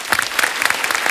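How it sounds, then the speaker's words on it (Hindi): A studio audience at a comedy show breaks into loud, dense applause, rapid overlapping claps sustained through the brief moment. "पहले जोरदार तालियां"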